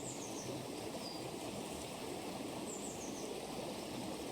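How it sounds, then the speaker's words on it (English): A rough, shallow river rushes steadily in a continuous, fairly loud flow, with a few faint bird chirps above the water noise. "She knew it was quite a rough river."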